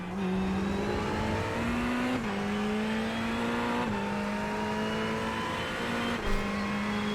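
A Ferrari race car in iRacing at Snetterton revs hard, its loud steady engine tone rising through gears with quick shifts dropping the pitch several times, close and continuous.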